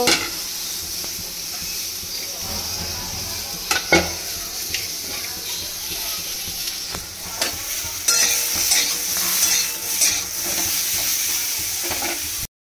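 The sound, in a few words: frying pointed gourd (potol) in a pan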